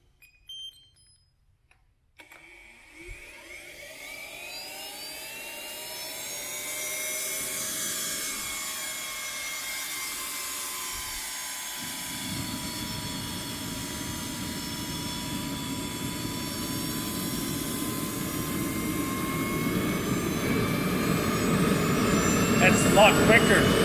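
A Swiwin SW300 model turbine jet engine starts up from near silence with clicks and rising whines, then spools into a loud, steady roar with high tonal whistles, growing louder toward the end, with no talk.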